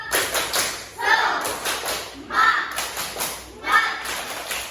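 A primary school class claps in a quick rhythmic pattern led by the teacher, with bursts of clapping repeating in three rounds and children's voices mixed in.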